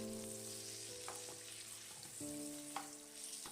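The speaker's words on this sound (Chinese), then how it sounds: "炸至定型之后，再转中小火慢慢的炸" Glutinous rice balls deep-fry in oil over medium-low heat, a soft, steady sizzle with faint stirring clinks and tonal hum in the background, quiet and continuous.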